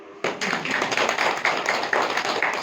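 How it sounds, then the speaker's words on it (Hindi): An audience at a spiritual talk bursts into applause, a dense, steady clapping that starts suddenly and continues at an even level, loud and fairly close. "ताली तो बजाओ"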